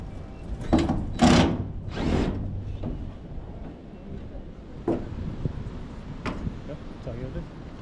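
A cordless drill driver runs in short bursts while driving screws through metal gutter guards outdoors, several quick whirring pulses up close, mixed with rustling handling noise.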